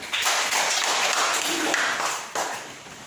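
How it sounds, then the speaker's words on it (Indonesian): Schoolchildren in a classroom clap together in a dense burst that holds for a couple of seconds, then thins and fades. "tepuk tangan untuk diri kalian"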